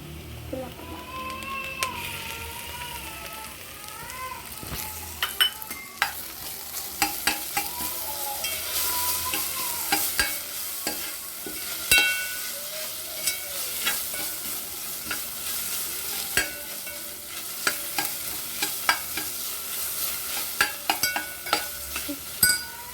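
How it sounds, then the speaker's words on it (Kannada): Ginger garlic paste sizzling in a hot pan while a spoon stirs and scrapes it, a continuous fry with frequent clinks and scrapes throughout. "ಸೊ ಈಗ ನಾವು ಈ ಥರ ಫ್ರೈ ಮಾಡ್ಕೋಬೇಕು. ಸೊ ಈಗ ನಾವು ಶುಂಠಿ ಬೆಳ್ಳುಳ್ಳಿ ಪೇಸ್ಟ್ ಹಾಕಬೇಕು"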